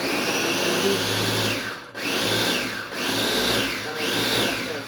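A kitchen blender whirs as it blends moringa leaves with a little water, a loud continuous motor whine that dips briefly twice as the blades bog down and recover.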